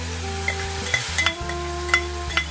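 Mixed vegetables with carrot and spinach frying for pulao, a continuous sizzle punctuated by regular spatula scrapes and taps against the pan, close and fairly loud with no talking.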